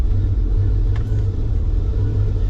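A cold 1987 Ferrari Testarossa flat-12 engine idles with a loud, steady low rumble up close, with no talking.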